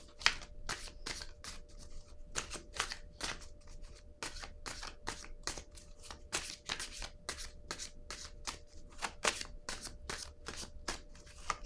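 Tarot cards are shuffled up close in a long run of quick, crisp riffling bursts, repeated in an uneven rhythm with short gaps and no talking.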